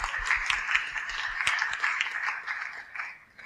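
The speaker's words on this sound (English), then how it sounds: "let's give another round of applause for volunteers" An audience applauds volunteers at a psychedelic-guiding seminar with a dense, moderately loud wash of clapping that runs on steadily and then tapers off.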